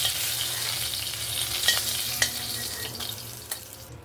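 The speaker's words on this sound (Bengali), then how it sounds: "সব মাছগুলো সুন্দরভাবে ভেজে নেব।" Tilapia pieces frying in oil in a pan, a steady close sizzle that keeps going with a few sharp pops and spatters, and no voices.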